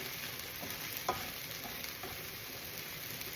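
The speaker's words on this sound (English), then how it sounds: "the eggs are cooking up nicely here" Eggs fry in a pan for breakfast burritos, a steady, soft crackling sizzle with a few faint scrapes, heard alone at low volume.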